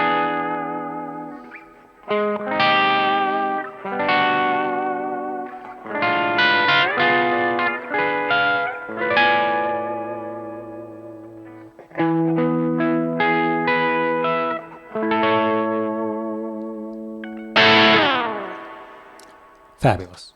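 An electric guitar plays melodic phrases and chords through a spring reverb pedal, the notes ringing out with a lingering wash between pauses of playing.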